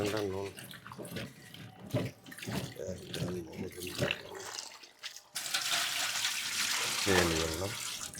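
Running tap water rinses muddy Chinese potatoes (koorka) while a person talks over it; the steady splashing swells into a louder, continuous rush toward the end.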